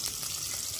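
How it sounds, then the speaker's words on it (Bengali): Fish fries in a wok with a brief, close, continuous sizzling hiss and no talking. "কড়াতে মাছটা দিয়েছি, ভাজছি ততক্ষণ।"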